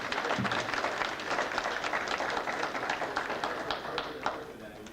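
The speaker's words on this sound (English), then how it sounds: "Give everybody a nice round of applause, huh?" A crowd at an evening entertainment event gives everyone a round of applause. The clapping is steady and fairly close, with some chatter from the room running underneath it.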